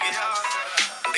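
An iPhone 16's built-in speakers play a bright, loud melodic tone with quick rising chirps and sustained notes over about a second, close and clear with no voices.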